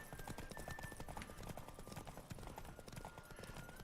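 Horse hooves galloping in the video game The Witcher 3, a fast continuous clip-clop at a steady rhythm, faint and low in level, with a voice occasionally mixed in.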